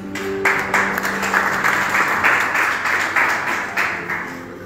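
A church congregation breaks into applause at a revival meeting in Rabat, Morocco: dense, steady hand clapping from many people, loud and close, lasting throughout.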